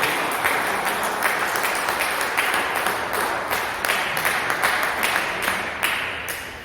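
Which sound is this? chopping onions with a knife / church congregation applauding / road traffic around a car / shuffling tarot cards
church congregation applauding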